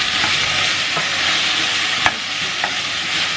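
Potato and sausage hash sizzles steadily in a frying pan while a utensil stirs it, with a few sharp scrapes against the pan standing out over the continuous loud frying hiss.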